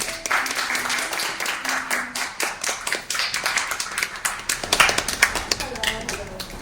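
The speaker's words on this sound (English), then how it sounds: "give a big applause to Miss Amy and Robin." Applause from an audience greeting the speakers at an evening talk on Rachmaninov. Dense, steady clapping fills the whole stretch, with a few voices faintly underneath.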